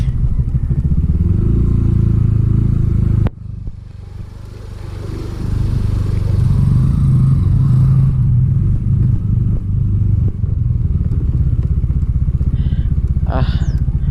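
Yamaha Mio i 125 scooter ridden on a muddy mountain trail, its engine droning and clattering up close, dipping briefly then picking up again, with the rider talking over it.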